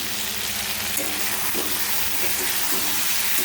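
Chopped tomato hitting hot frying masala in a pan for a potato and ridge gourd curry, giving a steady, close sizzle with faint soft stirring scrapes throughout, no voices.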